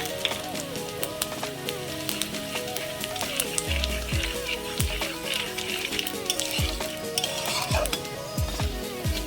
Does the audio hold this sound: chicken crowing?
no